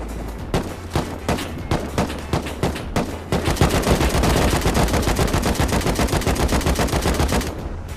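Rapid gunfire in the Rust video game on a modded server, first spaced single shots and then a dense, sustained burst of automatic fire, loud and close, with no talk over it.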